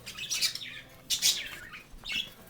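A pet bird calls out in harsh, squawking bursts, three loud rasping calls spread across a couple of seconds, close by and alone with no talking.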